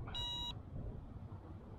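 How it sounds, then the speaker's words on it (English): A LYZRC L900 GPS drone's app gives one short electronic confirmation beep right at the start, a clear tonal chirp over faint background noise, then quiet. "Now we've got a confirmation beep there."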